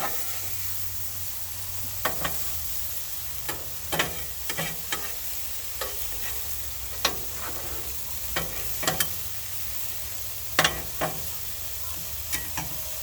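Corn frying on a Blackstone griddle under a soft constant sizzle, with irregular sharp scrapes and taps of a spatula as it is stirred and pushed toward the edge, close up with no speech.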